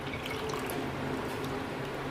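One and a half cups of milk pour into a pan in a home kitchen, a soft continuous liquid trickle heard close and fairly quiet.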